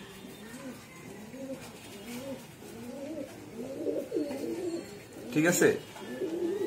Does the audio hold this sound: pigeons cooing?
yes